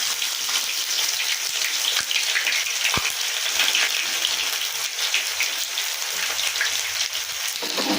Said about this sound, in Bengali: তো পেঁয়াজটা একটু লাল করে ভেজে নিতে হবে প্রথমে